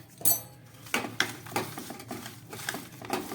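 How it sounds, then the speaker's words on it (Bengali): Small fish are mixed by hand with salt and turmeric in a bowl, giving irregular wet squelches and light clinks against the bowl, close and fairly quiet, repeating every half second or so. "চলুন এই মাছের মধ্যে এবার নুন আর হলুদটাকে আমি মাখিয়ে নিই"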